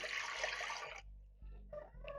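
Water pours into a pressure cooker fitted with a stand for boiling sweet potatoes, a steady splashing stream for about a second, followed by a few softer clunks and faint handling noises.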